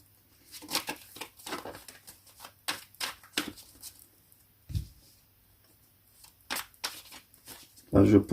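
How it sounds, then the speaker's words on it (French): Tarot cards are shuffled and handled up close in a series of quick riffling bursts and soft slaps, scattered across the stretch with quiet gaps between them. "Et là maintenant je vais tirer des cartes pour mieux détailler."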